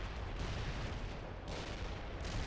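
World in Conflict battle with dense, continuous gunfire and booming explosions from a missile strike, rumbling and rough throughout with no voices.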